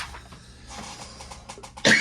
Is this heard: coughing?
yes